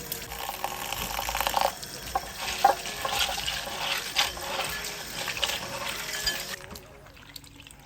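Tap water runs and splashes into a bowl as mushrooms are rinsed for okra soup, a steady gushing flow with small clinks and sloshes, stopping near the end.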